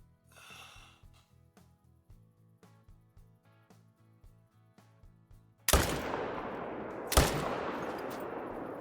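Rifle shot at a kudu bull while hunting in Call of the Wild: soft, steady rhythmic thumps, then two sharp, loud blasts about a second and a half apart, each trailing off in a long ringing decay.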